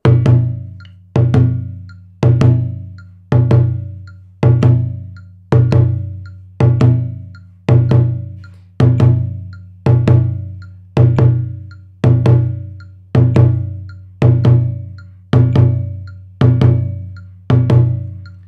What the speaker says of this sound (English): So the dundun ba pattern sounds like this